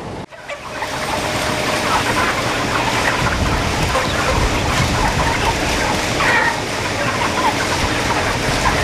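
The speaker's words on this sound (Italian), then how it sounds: "Con Francesco Crescenti siamo arrivati adesso all'interno di uno degli allevamenti di polli dell'avicola alimentare Monteverde" A dense, steady din of many chickens clucking and calling inside a poultry farm barn in Lombardy, a continuous loud crowd of birds filling the space from start to finish.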